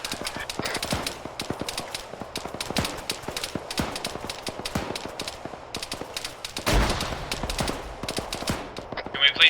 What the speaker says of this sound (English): Can we please stop shooting at the bunker?